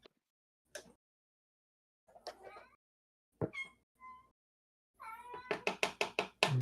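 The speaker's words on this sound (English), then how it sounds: "Noisy kitties." Several cats meowing in a kitchen, scattered separate meows with pauses between them, then a rapid burst of loud, insistent cries at the end, close and clear.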